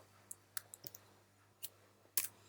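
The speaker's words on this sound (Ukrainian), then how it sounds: "Клік." A computer mouse clicks several times, crisp isolated ticks spaced irregularly against a quiet background hum, with a louder double click near the end.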